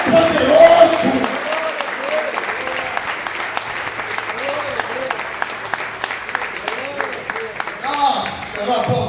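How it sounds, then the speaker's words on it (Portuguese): A church congregation applauding through a Sunday service, steady clapping that swells near the end, with a preacher's voice speaking over it. "Aplaude, deixa ele agir."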